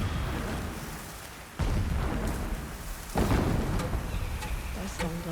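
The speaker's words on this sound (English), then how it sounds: "There's storm blowing in." A thunderstorm rolls in during Horizon Zero Dawn Remastered gameplay, with rain hissing throughout and heavy thunder cracks booming twice in close succession.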